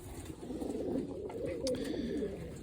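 Young pigeons in a pigeon loft coo and murmur in a steady, low, continuous chorus close by, with faint rustling and no talk.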